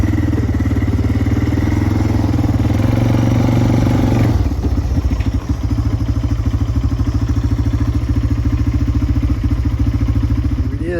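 VW 1800 engine running on a test bench, a loud, close, steady rumbling idle with a rapid even firing pulse and rattling clatter, shifting tone slightly partway through.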